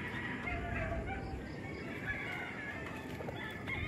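Backyard fighting roosters and native free-range chickens, a steady mix of clucks and crowing calls with busy outdoor background noise, no clear talk.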